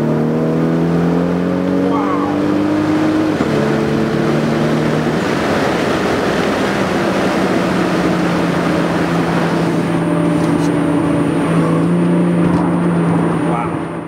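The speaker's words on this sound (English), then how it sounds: "Take this bad boy out on the highway here. Feel the turbo." A 1994 Toyota Supra Turbo accelerates hard on a highway, its engine droning loud and close as the pitch climbs through the gears, with a gear change partway through and a voice briefly exclaiming over the engine noise.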